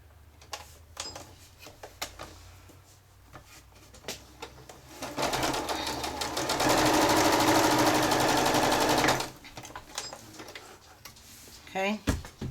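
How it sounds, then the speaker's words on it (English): A domestic sewing machine stitches a small quilted pin cushion in one steady, loud whirring run of about three seconds, led and followed by scattered light taps and handling noises, close by with no talking. "So let's just go and sew this one really quickly."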